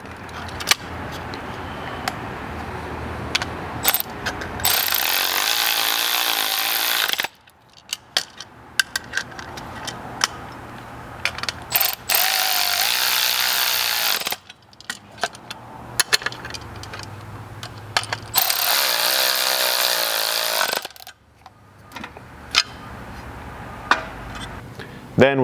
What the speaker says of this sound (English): Then you'll just need a 7/16 wrench and socket to tighten this up.